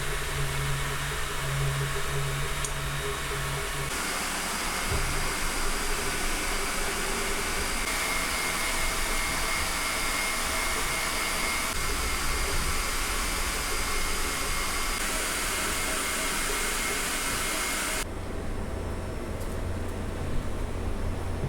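Elegoo Neptune 4 Pro 3D printer printing a tool holder, a steady whirring fan and motor drone that runs continuously with subtle shifts in tone as the print head moves, no voices.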